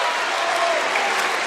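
The Bulldogs bench and the Canton student section cheer loudly during an overtime girls' playoff basketball game, a dense continuous crowd roar that lasts the whole short stretch.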